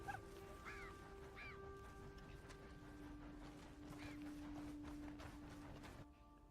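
Birds call in the Red Dead Redemption 2 outdoors, a few short honking, goose-like cries standing out over a low steady ambient hum, fairly faint and spread across several seconds.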